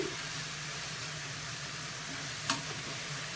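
Apple halwa sizzling and frying softly in a pan as it is stirred, a steady low hiss with one brief scrape near the end; quiet and close, no talking.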